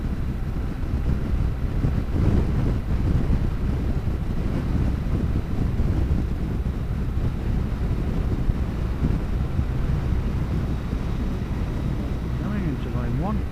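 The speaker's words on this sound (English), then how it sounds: "Wind is a bit excessive," Gusting wind buffets the microphone during a driving lesson, a loud, steady rumbling roar that fills the whole stretch with broad low noise and no clear breaks.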